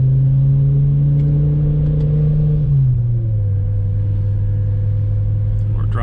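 A BMW E60 M5 engine idles while still warming up, a loud steady low hum whose pitch drops partway through as the idle settles, with faint clicks near the end.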